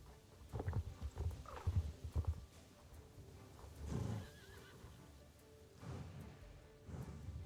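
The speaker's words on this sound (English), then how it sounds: "Don't you wish horse canters were this smooth?" A horse in the video game Star Stable whinnies and snorts amid soft clip-clop hoofbeats and low rumbling, fairly quiet and close, with no talking.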